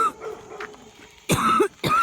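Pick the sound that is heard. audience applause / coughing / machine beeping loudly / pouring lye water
coughing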